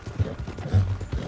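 A few quick hoof clops from a horse in the video game Red Dead Redemption 2 sound close by in a short, uneven burst.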